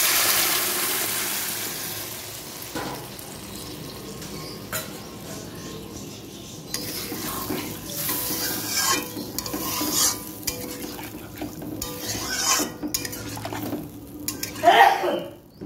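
Sizzling pan with utensil scrapes and clatter, then a burst of spitting and bubbling as water hits the hot spice paste, growing louder toward the end.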